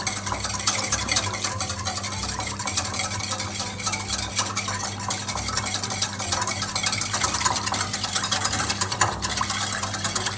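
Cake batter for an eggless whole wheat butterscotch cake is stirred after butterscotch essence is added, giving a steady, continuous scraping and swishing close by with a low hum underneath and no talking.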